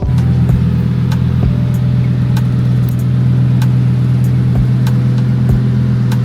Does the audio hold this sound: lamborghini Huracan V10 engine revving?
yes